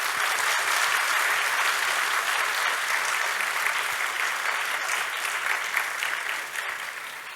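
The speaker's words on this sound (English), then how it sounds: "Please give these amazing dancers a huge round of applause." A school annual day audience applauds dancers, a dense, even roar of many hands clapping that holds steady and fades slightly at the end.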